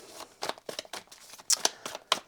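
A deck of cards is shuffled by hand, several quick riffling bursts with crisp snaps and flutters, close and fairly quiet with no talking.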